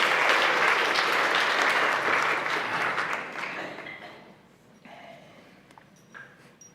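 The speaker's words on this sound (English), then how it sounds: "Give yourselves a round of applause." An audience at a talk bursts into loud, full applause that holds for a few seconds, then thins out and fades to scattered claps and faint room noise.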